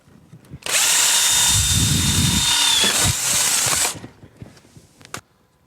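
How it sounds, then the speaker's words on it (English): A power drill bores a small pilot hole into the frame of a Ski-Doo Rev snowmobile, a loud continuous high whine lasting about three seconds before winding down, followed by faint clicks. "I'll pop it out, drill a little pilot hole, and it'll hold it in place."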